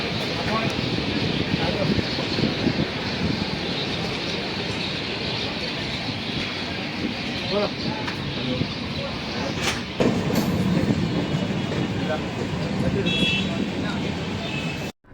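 A passenger train waits at Bharuch station before leaving for Surat, giving a steady loud rumble of railway noise with a sharp clank near the end, and someone talks over it.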